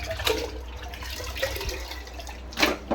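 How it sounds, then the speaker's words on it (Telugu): Water poured into a pan for cleaning, making a brief close splash and gurgle with a couple of louder surges over a low hum. "చూడండి కొన్ని వాటర్ వేసుకొని"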